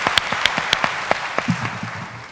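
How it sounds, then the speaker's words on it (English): An audience at an evening community talk event breaks into a short round of applause, with a few distinct claps rather than a full ovation, close and fairly loud. "So let's give a round of applause"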